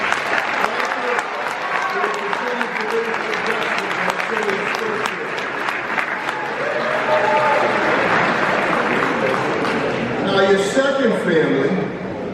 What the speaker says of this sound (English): Now's the time to give a big round of applause to your mom and dad and family members.